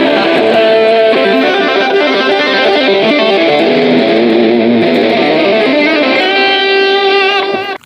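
A Les Paul electric guitar plays a sustained, slightly overdriven lead line, loud and alone, with held notes and bends before it abruptly stops.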